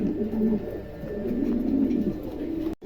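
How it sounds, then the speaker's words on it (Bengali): A pair of German cropper pigeons in a cage coo steadily and close by, low throaty burbling rolling on in waves for nearly three seconds before a brief cut. "চমৎকার এক জোড়া কবুতর, ভালো লাগলে অবশ্যই সংগ্রহ করতে পারেন।"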